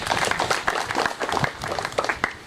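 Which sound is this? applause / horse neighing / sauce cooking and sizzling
applause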